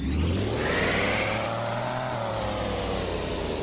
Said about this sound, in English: Turn the volume down because that truck's really loud.